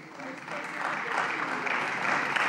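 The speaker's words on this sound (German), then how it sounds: "Applaus" Applause in the Berlin House of Representatives during a plenary session, a moderate, steady wash of clapping from the chamber that swells slightly over its short span.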